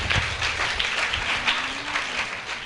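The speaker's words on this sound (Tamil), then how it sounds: "கைத்தட்டி சொல்லுங்க பார்க்கலாம்." A church congregation in Chengalpattu claps together in a steady, moderately loud burst of hand clapping that fills the whole stretch, with a faint voice underneath.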